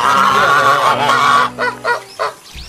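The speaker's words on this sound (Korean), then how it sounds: "거위" A goose honks on a free-range farm in Pocheon, giving loud, close, nasal calls: one drawn-out honk followed by a few short, clipped honks.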